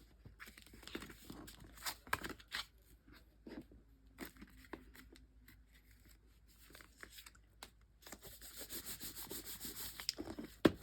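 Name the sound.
burnishing glued paper craft pieces by rubbing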